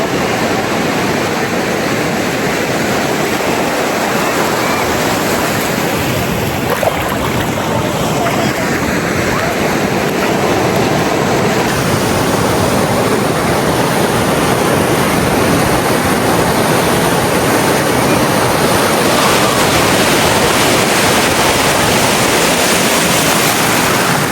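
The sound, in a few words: sea waves at the beach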